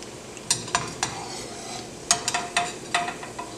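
Mixed dal vadas fry in hot oil with a steady soft sizzle while a metal spoon or slotted ladle repeatedly stirs and clinks against the pan, close and clear with no talk.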